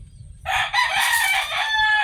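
A bulik fighting rooster crows loudly and close by in one sustained call, with a faint low rumble of background noise underneath.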